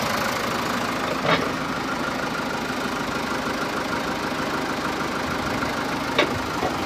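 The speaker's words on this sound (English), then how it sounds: "Cummins engine." Cummins diesel of a 1997 Case 580L backhoe idling steadily outdoors, a constant mid-low engine drone throughout with two brief sharp metallic clanks near the start and end, no voices.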